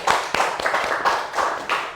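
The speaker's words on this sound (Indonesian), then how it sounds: "kasih tepuk tangan buat Mas Sukron." Applause in a classroom during a teaching session: several bursts of hand clapping over about two seconds, fairly close and moderately loud, with no talking.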